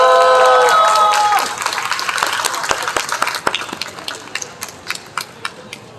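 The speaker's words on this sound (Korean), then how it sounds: "첫 번째 발언하실 김창규 목사님 나오실 때 뜨거운 박수로 환영해 주십시오." Crowd applause at an outdoor street rally, a dense wash of clapping that thins into scattered individual claps and fades over several seconds, with a tonal whistle-like sound at the start.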